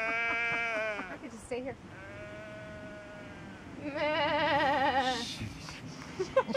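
Sheep bleat in the Northern England countryside, several close, wavering calls in succession, with a person speaking briefly between them and faint buzzing insects in the background.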